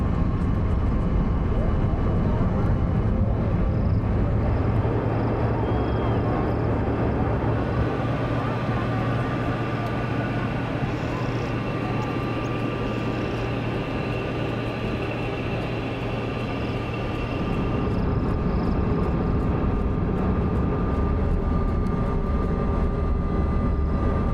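A steady, loud airplane drone fills the space, a constant engine roar with a low hum, like sitting inside a cabin in flight.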